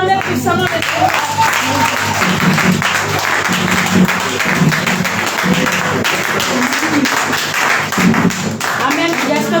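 A church congregation at a Saturday night vigil claps and cheers in praise of the Lord, sustained and loud throughout, with voices mixed into the applause.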